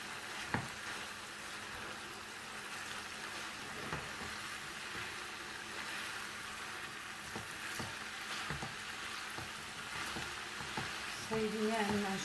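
Glass noodles (funchoza) with meat and vegetables stewing in a covered pan: a low steady sizzle runs under repeated scraping clicks as the mixture is stirred.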